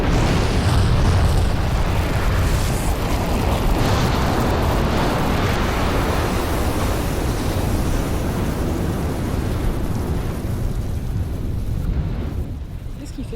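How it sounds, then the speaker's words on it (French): Loud, continuous roaring rumble from an erupting volcano in Vanuatu, a dense broadband wall of noise with heavy low-end boom that holds steady throughout and eases slightly near the end. "Là, tu vois, en ce moment, toutes les minutes à peu près, il y a une explosion."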